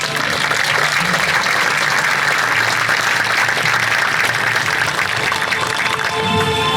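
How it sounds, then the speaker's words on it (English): Large audience at a State of the City address in Chula Vista giving city staff a round of applause, a loud, even wall of clapping held steadily for several seconds. "Please give our staff a round of applause"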